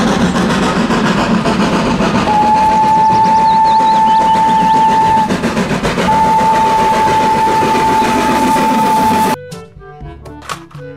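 A Thomas toy train engine hums and rattles continuously, with a sustained whistle-like tone running for a few seconds, pausing, then resuming, before cutting off abruptly.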